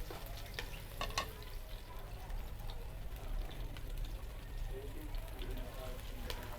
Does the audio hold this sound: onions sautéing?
yes